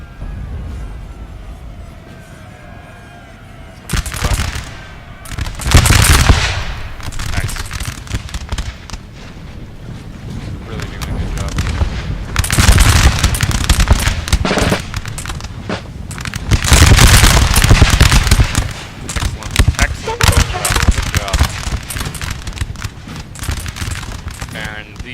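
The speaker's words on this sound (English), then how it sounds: "I guess they're opening fire." Musket volleys and artillery fire from a Napoleon: Total War battle, with loud repeated bursts and rolling crackle. Heavy salvos cluster around the middle and toward the end, and voices talk over parts of it.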